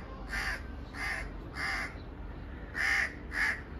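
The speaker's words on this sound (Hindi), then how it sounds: "ये है जी हमारे मुल्क का कौवा और ये साथ में उसका बच्चा बैठा है, इसकी आवाज़ देख" House crow cawing with its young nearby, five loud harsh caws in an uneven rhythm, close and clear over faint background noise, no talking.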